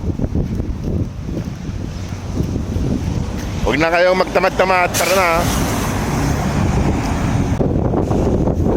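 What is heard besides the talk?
strong wind outdoors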